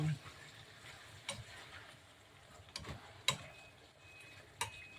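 Igado, an Ilocano dish of pork and liver, gets stirred in the pan with quiet scraping and a few sharp utensil clicks against the cookware over a faint low sizzle, close but soft.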